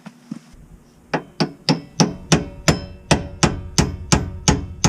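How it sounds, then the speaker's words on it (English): A hammer strikes repeatedly on a rear axle of a 2003–2008 Honda Pilot, knocking it into place. About a dozen sharp metallic taps land at a steady, slightly quickening rhythm, close and loud, with no talk. "Hammer it in all the way."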